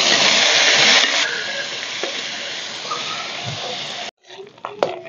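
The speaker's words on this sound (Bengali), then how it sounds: "তেল গরম হয়ে গেছে, তেলে দিয়ে দেবো শুটকি মাছগুলো।" Dried fish salted and dusted with turmeric, sizzling in hot mustard oil, with a loud steady hiss that eases after the first second and stops abruptly near the end before a few faint clinks.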